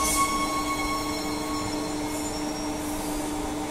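An A-Series electric train sits idling at a station, giving a steady moderate hum with sustained motor whine tones and faint background noise, no voices.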